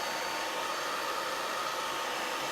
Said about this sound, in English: I'm hitting this with a blow dryer.